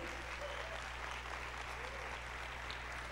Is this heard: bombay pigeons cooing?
no